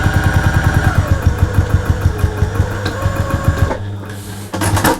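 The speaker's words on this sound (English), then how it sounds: "So now I'm going to stitch this side." Sewing machine stitching through thick layers of linen for a hexagon bolt pouch, a steady rapid mechanical chatter running close and loud, stopping abruptly near the end with a brief quieter hum.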